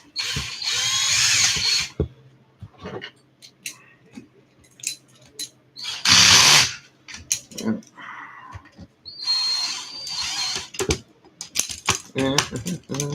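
A power drill or driver tightens parts on an RC car in short whirring bursts separated by pauses, with small metallic clinks and handling noises between them.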